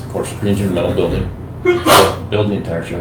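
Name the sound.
sneeze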